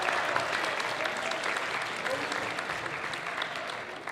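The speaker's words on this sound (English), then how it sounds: "Round of applause for James." A high school band concert audience gives a round of applause for a middle school band director, with steady, continuous clapping from a full crowd that fills the hall at even loudness throughout.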